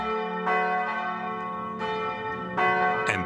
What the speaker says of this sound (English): I take the opportunity to see the bell tower right next to the church, one of the city's oldest and most melodious towers.